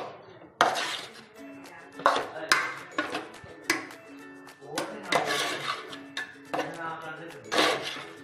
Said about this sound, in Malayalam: ഇനി നമുക്ക് ഈ തക്കാളിയും കൂടെ ചേർത്ത് നന്നായിട്ടൊന്ന് മിക്സ് ചെയ്തെടുക്കണം.